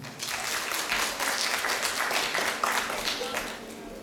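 An audience applauds at a dance competition, a steady wash of clapping from a crowd in a hall that goes on for several seconds.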